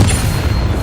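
A Bombarda spell explosion in Hogwarts Legacy: a loud, heavy boom with a deep rumbling body, brief and close.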